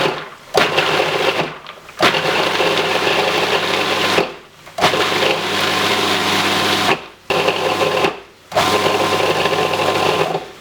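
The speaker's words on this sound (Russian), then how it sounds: "Засыпем все ингредиенты в кухонный комбайн" A kitchen food processor motor whirs loudly in several bursts while blending ingredients for a Georgian walnut sauce, stopping briefly between runs with short gaps of silence.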